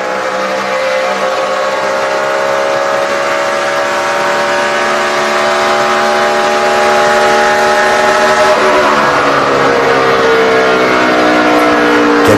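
Jeff Gordon's NASCAR Sprint Cup race car at the 2011 Hollywood Casino 400, its engine a loud, continuous roar heard from the in-car camera, holding steady with a shift in pitch about two-thirds of the way through.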